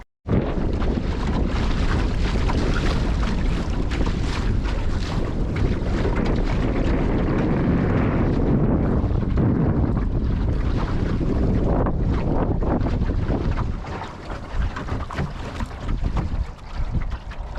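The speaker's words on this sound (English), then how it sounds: "Sailing along quite nicely now." Sailboat moving briskly across a lake in decent wind, with constant loud wind buffeting and rushing water along the hull, steady throughout and easing slightly near the end.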